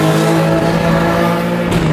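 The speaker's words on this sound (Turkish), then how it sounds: "Motor yani egzoz sesini çok daha güzel bir seviyeye getiriyor" An Alfa Romeo GT with the 3.2 V6 Busso engine revs hard through its exhaust, a loud, close, sustained harmonic drone that holds steady with no voices over it.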